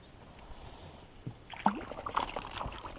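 A kayak paddle strokes through lake water, a quiet splash and trickle that grows into a couple of louder sloshing strokes close by.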